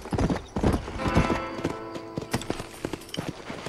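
A horse in the video game Red Dead Redemption, hooves clip-clopping in a quick, uneven rhythm close by, with a neigh mixed into the hoofbeats before they settle into lighter steps.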